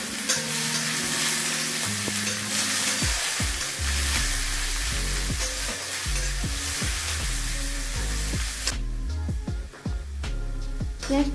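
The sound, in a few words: chopped onions frying and stirred in mustard oil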